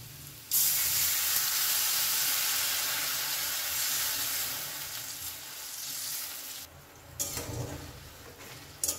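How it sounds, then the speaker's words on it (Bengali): Water in a salted pan on a gas flame heats toward a boil: a loud, steady hiss begins abruptly and holds for several seconds, then tapers off, broken by a few bubbling bursts near the end. "জলটা ফুটে উঠেছে"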